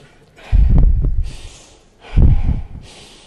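Two slow breaths in and out, each a soft rush of air with a low, snort-like push, heard close and alone with quiet gaps between them.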